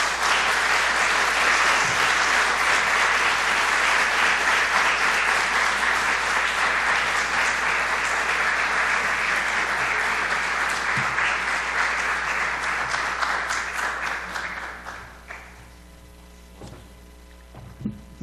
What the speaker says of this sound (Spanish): este aplauso tan caluroso revela el impacto de la charla